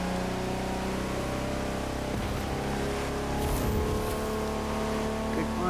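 A Koenigsegg Gemera hypercar drives at high speed in the racing game The Crew 2, its engine drone a steady, dense layered hum with faint shifting tones throughout.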